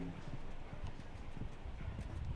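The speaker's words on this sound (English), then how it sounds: "British bred horse." Horse hooves clip-clopping across a showjumping arena during a young horse championship, a steady rapid patter of hoofbeats over crowd and arena noise.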